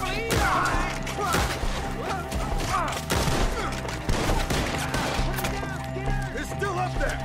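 A Red Dead Redemption 2 shootout against enemies up in the trees, with rapid overlapping gunshots, cracks and thuds going off close and loud throughout while characters shout over the fire.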